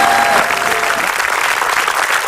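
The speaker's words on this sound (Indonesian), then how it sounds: "Tepuk tangan dulu dong untuk Jupe dong." A studio audience at a television talk show applauds loudly and steadily, a dense wash of clapping lasting a couple of seconds with no speech over it.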